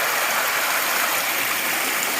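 Along the Appalachian Trail in early March, a mountain stream pours steadily, a loud, close, continuous rushing and splashing of water with no voices.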